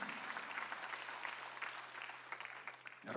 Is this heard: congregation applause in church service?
yes